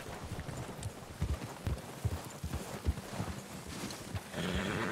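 Horse hooves clop in an irregular, steady rhythm over a busy outdoor ambience in the Red Dead Redemption 2 video game, moderately close, with a louder wash of sound rising near the end.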